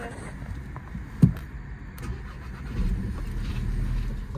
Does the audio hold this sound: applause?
no